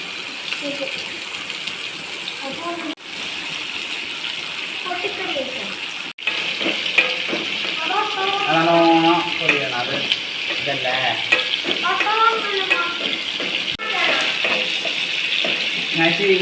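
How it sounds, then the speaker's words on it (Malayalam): Stuffed squid dropped into hot oil in a frying pan sizzles and bubbles steadily and close, with louder crackling bursts after it goes in, while a voice talks. "നമ്മളെ കൂന്തൽ നിറച്ചത് എണ്ണയിലേക്ക് ഇടുന്നതാണ്."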